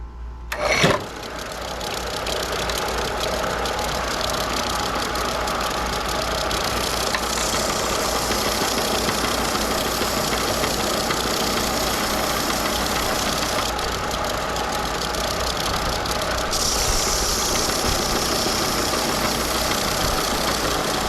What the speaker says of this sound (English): a belt sander is a belt sander is a belt sander, right?